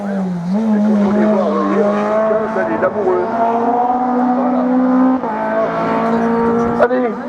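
A race car climbs a hill at a regional French hill climb event, its engine loud and close with rising and falling revs and gear changes, while a commentator talks over it.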